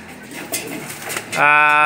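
Soft coos from a kept pigeon over a low murmur of voices, ending in a louder, sustained tonal call up close.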